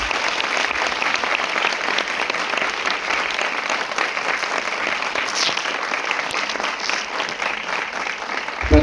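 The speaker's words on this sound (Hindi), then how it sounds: "सभी से निवेदन है ऐसे सार्वजनिक व्याख्यान के लिए जोरदार तालियां एक बार।" An audience at a university public lecture breaks into sustained applause, a dense, even roar of many hands clapping steadily for several seconds, loud and continuous with no voices over it.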